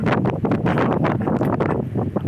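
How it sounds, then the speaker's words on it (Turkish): Steady wind buffeting the microphone, a loud continuous rumble with gusty fluctuations throughout and no voices. "Biraz rüzgar var sesim tam iyi gelmeyebilir."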